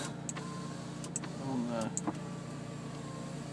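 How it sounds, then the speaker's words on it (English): Electric window motor on a 2001 Porsche Boxster S 3.2 (986) running as the glass moves, a steady whir heard close inside the cabin over a low idle, with someone talking around it. "The windows work"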